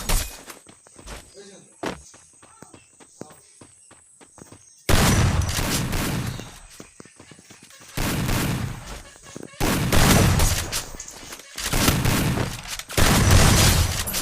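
Gunfire and grenade blasts in a shooter video game: scattered light shots at first, then heavy booming bursts of fire and explosions in loud repeated waves, with a voice talking over parts of it.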